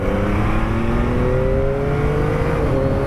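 A 2023 Yamaha XSR900 motorcycle's CP3 engine revving steadily higher, a loud continuous drone with rising pitch that fills the whole clip.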